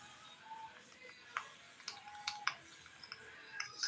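Quiet typing on a computer keyboard, scattered soft clicks and taps at an irregular pace, faint and close, with no talking.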